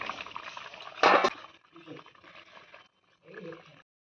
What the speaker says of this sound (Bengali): তারপর মাছগুলো দিয়ে দিলাম।